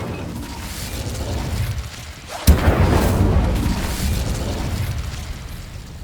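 Incendio fire spell cast in the Hogwarts Legacy video game: a sharp burst hits midway, followed by a sustained roaring, crackling whoosh over a dense game ambience, with no talk.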